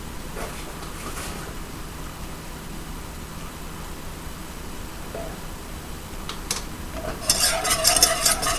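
Flour roux being stirred in a pan gives soft, quiet scraping and swishing with occasional faint clinks. A louder hissing, sizzling burst rises near the end.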